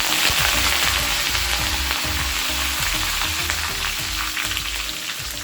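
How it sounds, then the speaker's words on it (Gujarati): Mustard seeds and cumin crackle and pop in hot oil, a steady, loud, dense sizzle with rapid crackling throughout, close up. "રાઈ અને જીરું આપણે સરસ ક્રેકલ થવા દઈશું।"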